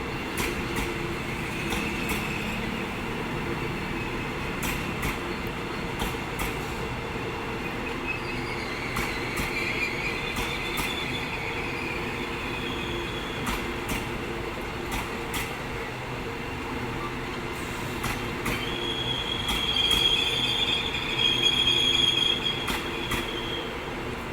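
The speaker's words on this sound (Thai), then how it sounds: "ตอนนี้ก็ชะลอรถนะ เพื่อที่จะเข้าทางเบี่ยงนะครับ" Passenger train 31 in Thailand slowing to take a diversion track before Ratchaburi station, with steady rolling rumble, high wheel squeal and rhythmic track clicks close by.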